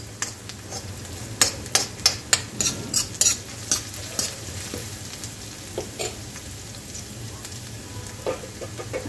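Onion fries in a pan for a Kobi Manchurian, a soft sizzle under a burst of rapid spoon scrapes and taps against the metal early on. The scraping later thins to sparse knocks over a steady low hiss.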